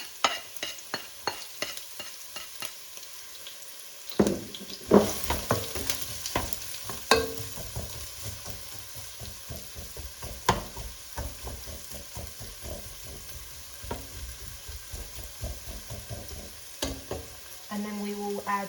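Chopped onion fries in a pot for chana dal with soft continuous sizzling broken by repeated sharp stirring clicks and scrapes of a utensil, close but fairly quiet, without talk.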